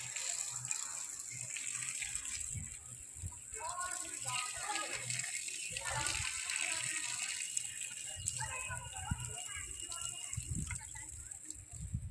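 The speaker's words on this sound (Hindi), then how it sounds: "अब क्यारी में लगाते हैं पानी" Water running from a hose into a garden bed of plants, a steady low gushing and splashing that continues throughout, with faint rattles and background sounds mixed in.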